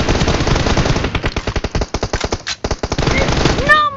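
Rapid automatic gunfire from a PUBG match, bursts of sharp close shots firing in quick succession, briefly pausing midway before resuming, with a chime near the end.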